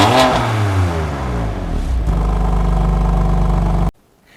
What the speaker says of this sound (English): here's the sound of the exhaust note of this M2 Competition